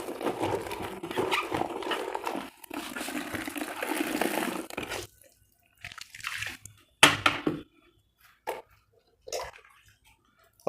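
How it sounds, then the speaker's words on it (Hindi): Linen shirt being rinsed by hand in a basin of plain water: steady sloshing and splashing for about five seconds, then sparse, separate splashes and drips with quiet gaps between them. "अब इसको खंगालने की प्रक्रिया को करेंगे।"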